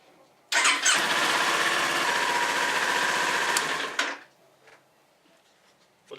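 A Kawasaki Ninja 400 motorcycle engine, just after an oil change, cranks and fires up, running loud and steady for about three and a half seconds before cutting off, leaving near silence.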